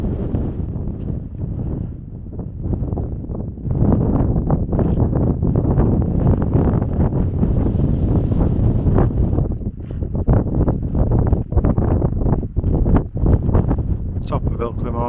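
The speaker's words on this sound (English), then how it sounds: "It's a bit windy to hear me." Strong wind on Ilkley Moor buffets the microphone in heavy, continuous rumbling gusts that swell louder after the first few seconds, with someone talking faintly beneath the roar.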